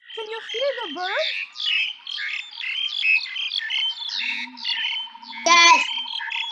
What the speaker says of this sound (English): can you hear? Can you hear the birds?